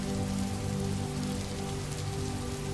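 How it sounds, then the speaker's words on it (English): Slow, gentle rain falling steadily on surfaces, a soft even patter with no breaks, heard alone at low volume. "allowing the gentle cadence of slow rain to guide us toward a deep and peaceful rest"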